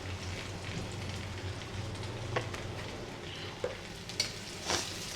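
Singi fish frying in oil, a soft steady crackle with a low hum beneath and a few scattered pops and clinks toward the end.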